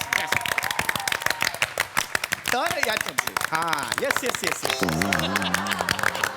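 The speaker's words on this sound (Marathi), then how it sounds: "आता जोरदार सगळ्यांसाठी टाळ्या वाजवा." A studio audience at a Marathi comedy show claps in quick bursts of dense applause, with someone speaking over it and laughter-like voices rising in the middle.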